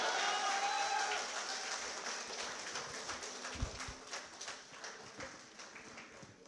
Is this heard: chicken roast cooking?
no